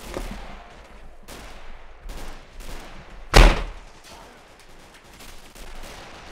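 A single loud, sharp gunshot rings out midway in a World War II battle video game, standing above a steady bed of game noise and scattered quieter pops.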